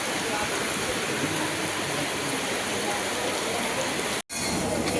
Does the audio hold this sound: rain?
yes